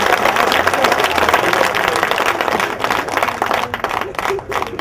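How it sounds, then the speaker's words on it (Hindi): Enthusiastic audience applause at an Urdu mushaira poetry gathering, a loud, dense wash of clapping from a crowd that stays strong throughout and dips slightly near the end. "एक जोरदार तालियां।"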